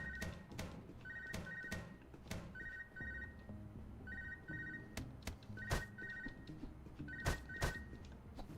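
Phone ringing in the video game UnMetal, repeated double-pulse rings in a steady pattern, with clunks and soft background game sounds between them.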